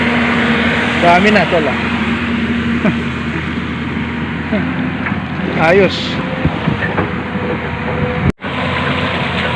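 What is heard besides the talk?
backhoe engine running while digging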